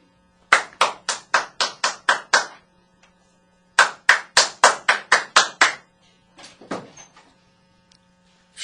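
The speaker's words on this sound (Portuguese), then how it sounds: "À noite, eis que batem à sua porta." Knocking on a door at night comes in two rapid series of about seven to eight sharp, loud knocks, followed by a few fainter taps, with a faint steady hum behind.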